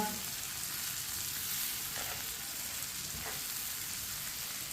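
Okra (bhindi) fries in a pan with a steady, dense sizzle, close and continuous, broken by a couple of faint stirring scrapes.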